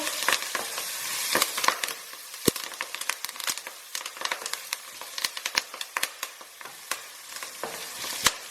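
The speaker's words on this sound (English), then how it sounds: "it's time for our curry leaves to go in. And they splatter a lot, so be careful." Curry leaves crackle and spit in hot oil for a dry pepper chicken fry, a dense stream of sharp pops and sizzling bursts close up, with no voices.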